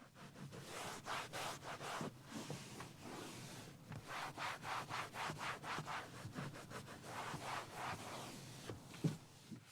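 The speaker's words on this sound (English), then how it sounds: "went ahead and agitated the majority of it over with the brush first here" A brush scrubs a leather car seat, its bristles rasping in quick rhythmic back-and-forth strokes, close up and steady, with a faint knock near the end.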